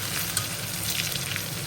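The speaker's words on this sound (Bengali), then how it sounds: "চলেন দেখি বেগুনটা কেমন ভাজছে" Eggplant slices frying in a pan of oil, giving a steady close sizzle and crackle with no voices.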